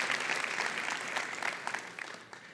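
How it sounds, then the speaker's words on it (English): A tech event audience gives a round of applause for the demos and presenters. The applause is steady and fairly distant, with no talk over it, and tapers off near the end. "how about one more round of applause for those amazing demos, the presenters and the demoers"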